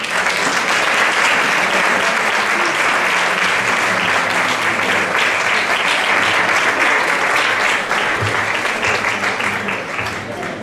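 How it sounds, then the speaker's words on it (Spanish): An audience at a bagpipe quartet competition in Ponteareas welcomes the Marín group with loud, dense, sustained applause that holds steady throughout, with no speech over it. "recibimos con un fuerte aplauso o grupo de Marín"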